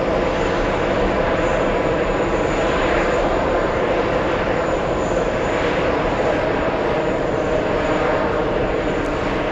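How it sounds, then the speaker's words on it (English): A Delta Airbus A330-300, delivered in 2006, takes off at JFK airport, its jet engines giving a steady, loud, broadband roar that holds throughout without speech. "Delta's 184 flying to Milan. That's an A330-300 delivered back in 2006"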